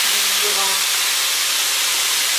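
Minced meat browns in a pan for hachis parmentier with a loud, continuous, close-up sizzling hiss that holds steady for the whole stretch.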